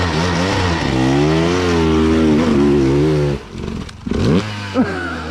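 A motorcycle engine revs hard and steadily on a hill-climb attempt, its pitch rising and falling up close, then dropping away briefly before a short final rev.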